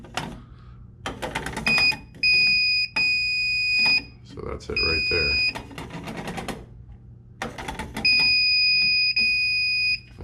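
A circuit breaker finder at an electrical panel gives loud, shrill electronic beeps in three separate bursts, with someone talking between them.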